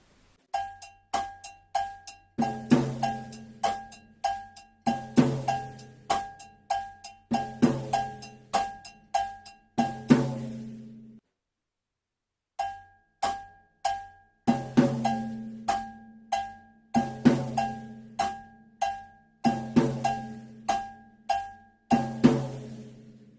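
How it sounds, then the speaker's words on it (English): Cowbell clanks in a steady syncopated pattern over deep conga tones in a cha-cha groove, with a brief gap midway before it repeats. "Let's add the cowbell to our conga part."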